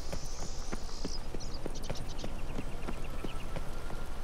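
In The Witcher 3, a horse is ridden at a steady trot, and its hoofbeats tap out a quick, even clip-clop rhythm over a constant background hum, with faint chirping overhead early on and no talking.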